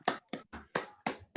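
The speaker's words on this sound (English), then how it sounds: "everybody, you can unmute yourselves and give them a nice round of applause" Applause from an online audience on a video call after a poetry reading: a handful of sharp, evenly spaced claps, about one every quarter second, close and distinct rather than a blended crowd.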